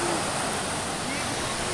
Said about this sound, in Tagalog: Ay, laki ng alon talaga